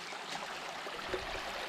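A small stream crossing on the Heysen Trail in South Australia's Flinders Ranges makes a faint, steady trickling rush of flowing water, continuous and soft, with no voices.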